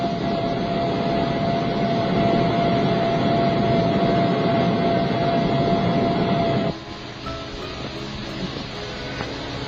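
A military helicopter flies along the Suez line, heard as a loud, steady droning engine roar with a faint whine; the roar drops abruptly to a lower, rougher level near the end.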